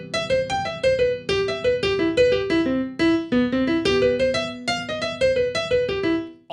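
Solo jazz piano line built entirely from skips and leaps with no stepwise motion, a brisk stream of bright single notes over light chords, close and clear with no talking.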